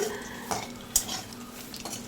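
Utensils clink and scrape against a pan over a soft, steady sizzle of frying chana dal fritters, with a few sharper knocks as they are turned.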